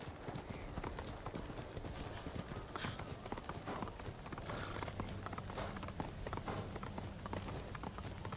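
Horse hooves clip-clopping in the video game Ghost of Tsushima, a steady rapid rhythm of hoof falls under a busy wash of game sound, moderately loud throughout.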